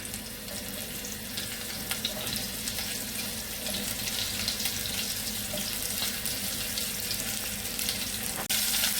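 Bitter gourd pieces frying in hot oil give a steady, dense hiss that runs unbroken throughout, like a rushing faucet, with no talking.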